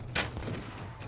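Gunfire in the Mount & Blade: Warband video game: one fairly sharp shot followed by a fainter second report, heard over a low steady battle hum in the background.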